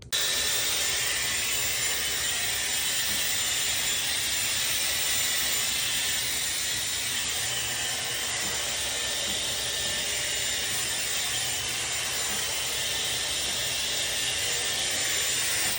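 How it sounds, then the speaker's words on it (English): Loud, continuous whooshing roar of a hair blow dryer running close by at a steady pitch, with no talking. "Oh, time to blow dry this side."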